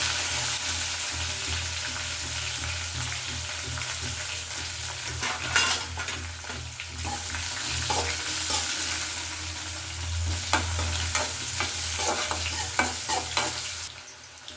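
Green chillies and urad dal frying in hot oil in a small tempering pan, a continuous close sizzle broken by repeated metal stirring scrapes and clinks, louder toward the end, with no voices.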